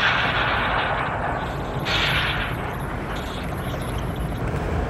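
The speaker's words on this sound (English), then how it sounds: "the nuclear bomb is starting again" A nuclear bomb explosion in a video game roars as a loud, sustained rumbling blast, dense and continuous, with a sharper surge partway through.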